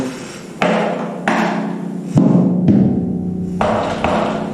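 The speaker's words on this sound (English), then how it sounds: "it's a really good thing to hear more or less what note the shell is producing" A drum shell being tapped to hear its note, giving six sharp, ringing knocks spaced about half a second apart, close and loud, each decaying with a resonant tone.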